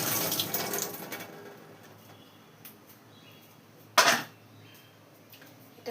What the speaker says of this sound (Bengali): তো ফার্স্ট কাজ হলো জল ভরছে